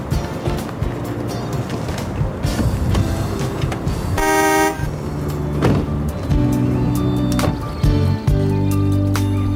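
A car starts and pulls away, its engine rumbling throughout, with one short horn toot in the middle amid other busy vehicle and background noise.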